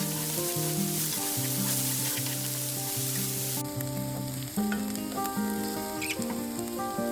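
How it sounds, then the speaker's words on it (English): Onions sautéing in a pan, a steady close sizzle and crackle heard under continuous background music. "Using the same pan, add your onions and sauté until they become soft, fragrant, and translucent."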